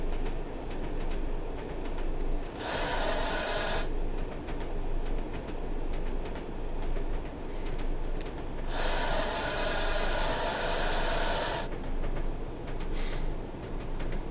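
A Class 101 diesel multiple unit runs on the Peak Forest route in Train Sim World 3. A steady, loud cab rumble carries throughout, broken twice by bursts of bright air hiss.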